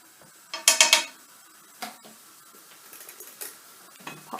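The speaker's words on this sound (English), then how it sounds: "a few twists of black pepper from the pepper grinder" A pepper grinder cracks black peppercorns over an onion and turmeric dish in a kitchen, a quick cluster of gritty ratcheting twists up close, then scattered softer grinds and clicks, with no talking.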